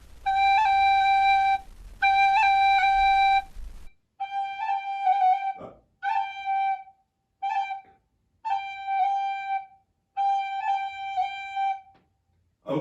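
A whistle-like wind instrument plays a few sustained notes, then a series of quick ornamented phrases, each a short tapped triplet flourish with grace notes, alone.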